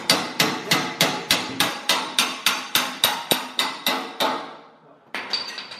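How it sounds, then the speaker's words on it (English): A pin hammered into a Twin Busch car lift: about thirteen even, ringing metallic blows in a steady rhythm, close and loud, a brief pause, then another strike. "You just hammer it in?"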